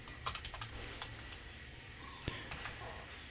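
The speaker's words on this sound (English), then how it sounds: "When you type John Smith here" Faint typing on a computer keyboard as a name is entered into a form, with soft, irregular key taps close by in a quiet room.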